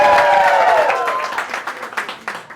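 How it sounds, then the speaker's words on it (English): A comedy show audience breaks into applause and cheering, loud at first and then thinning into scattered claps over about two seconds, with no talk over it. "Big applause."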